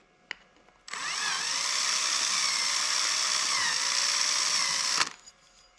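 Countersinking holes in a metal dividing plate for a lathe indexing plate, a steady high whine of the cutting tool running for about four seconds, close and alone, after a faint click.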